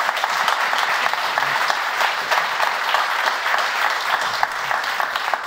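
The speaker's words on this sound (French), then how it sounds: "ça s'applaudit" A studio audience on a French talk show about Mulhouse applauds steadily, a dense, continuous wash of clapping that holds at an even level throughout.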